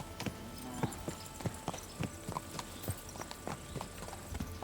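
Horse hooves clip-clop steadily at a leisurely walk in the video game Kingdom Come Deliverance 2, even, moderately close strikes over a quiet ambient background, with no talk.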